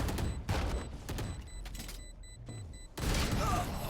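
Gunfire in a Valorant match: a sharp burst of shots and mechanical clatter over a busy game mix, with a loud impact at three seconds and a commentator talking throughout.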